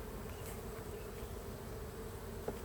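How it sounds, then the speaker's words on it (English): Honey bees buzz continuously during an open hive inspection, a steady close drone of many insects with no speech. "I am starting to get buzzed by the bees now"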